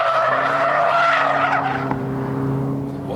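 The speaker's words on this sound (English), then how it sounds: "First up is the Ford, a car that's always cried out for a bit more power." A Ford SportKa with an extra 25 bhp, flared arches and lowered suspension driven hard, its engine holding a loud steady tone with tyre squeal as it corners, close and continuous for a few seconds.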